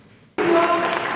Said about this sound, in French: Salve d'applaudissements pour le président de la République de l'Angola